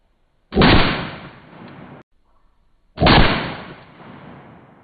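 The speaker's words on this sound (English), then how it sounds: "We're going to do the recoil test comparing the GI standard 9mm to the GI standard 45." Two loud pistol shots from a Rock Island Armory GI Standard M1A1 1911, firing 9mm and .45, each a sharp close blast with a decaying tail, spaced about two and a half seconds apart outdoors.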